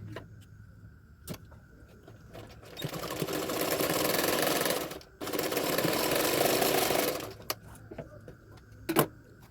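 A sewing machine stitches a seam joining the two katori cups of a lined double katori blouse in two steady motor bursts, with a short pause between them and quieter handling clicks before and after.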